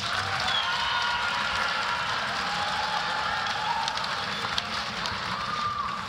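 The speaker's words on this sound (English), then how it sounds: "Please give a round of applause for guest artists Agibu, Sanu, Mrs. Worth, Mrs. Ilian, Mrs. Lightbell, and the dance students" An audience at a 2019 Black History Month celebration applauds guest artists and dance students, a dense, steady wash of clapping that holds evenly loud throughout.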